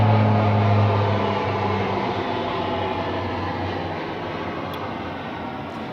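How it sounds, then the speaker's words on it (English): A deep, rumbling Air Force propeller plane with about six propellers drones overhead, loud at first and slowly fading as it moves away. "It's actually an Air Force plane going over."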